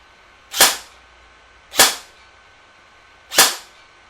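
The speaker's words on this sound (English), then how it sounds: "And I'm just going to aim through and fire a few shots at the target." Three simulated rifle shots from a Virtual Shot training system, sharp, close cracks spaced about a second apart, each decaying quickly into near silence.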